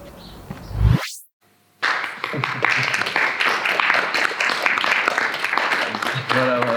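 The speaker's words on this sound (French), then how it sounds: "ces applaudissements sont pour Colin" Scattered applause at a live event in Erquelinnes follows a loud rising whoosh and a second of silence, then builds into sustained clapping from a modest crowd with some talk near the end.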